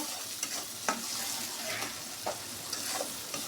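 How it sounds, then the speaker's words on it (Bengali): Onions and dried churi fish stirred and fried together in a pan give a steady bright sizzle, broken by a few sharp spatula scrapes every second or so, heard close up with no voices. "ভালো করে নেড়ে চেড়ে পেঁয়াজটা আরও ভেজে নেব।"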